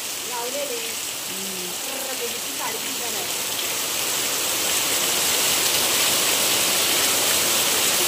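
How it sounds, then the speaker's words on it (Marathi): Heavy rain pours down in a village, a loud, dense hiss that swells and stays constant, with a few spoken words heard briefly at the start. "हा बघा केवढा पाऊस पडतोय इथे बाप रे"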